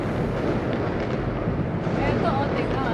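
New Year fireworks exploding over Hanoi, Vietnam: a dense, continuous roar of bursts and crackles filling the air, loud and unbroken, with voices talking and exclaiming over it.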